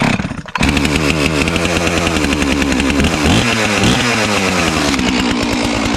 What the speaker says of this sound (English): Let's see if this cold saw will fire up.